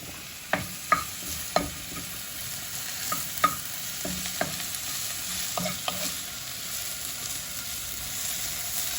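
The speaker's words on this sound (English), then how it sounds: "Mushrooms glug up the oil. You can see I'm going to have to add a little bit more olive oil" Mushrooms fry in olive oil in a wok with a soft, steady sizzle, punctuated by intermittent clacks and scrapes of stirring.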